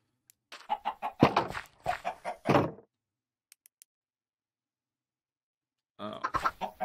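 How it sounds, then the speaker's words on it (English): Chickens in Minecraft cluck in short rhythmic bursts, close and clear, followed by a quiet gap and then another run of clucking. "I think we can breed these chickens again."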